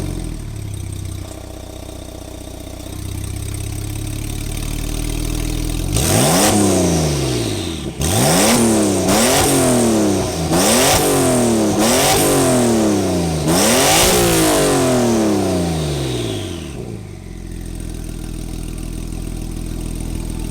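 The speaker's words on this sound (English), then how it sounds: "let's see if we can get some revs for the Akrapovic exhaust" A Porsche 911 fitted with an Akrapovic exhaust idles, then revs hard in several quick rising bursts that snap back down, loud and close, before settling to idle again.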